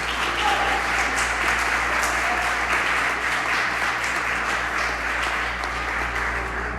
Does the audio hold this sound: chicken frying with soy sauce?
no